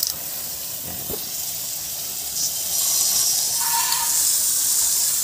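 Close, sharp bursts of aerosol cleaning spray hiss steadily into a dirty car air-conditioning system, with a few short pauses and a louder stretch toward the end.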